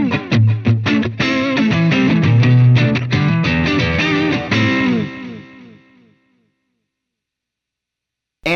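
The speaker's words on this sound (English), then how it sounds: "Adding the tube screamer. Adding the delay." Electric guitar through a Tube Screamer overdrive and a delay, recorded via an Orange OMEC Teleport audio interface, plays a dense riff of chords and single notes, then the last notes ring out with trailing delay echoes into silence.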